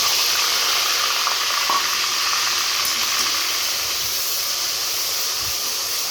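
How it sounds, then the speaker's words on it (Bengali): Ground spice paste sizzles in hot oil, a steady, loud hissing fry that holds evenly throughout with no voices. "তেলটা গরম হয়ে গেছে, আমি বেটে রাখা মশলাগুলো দিয়ে দেব।"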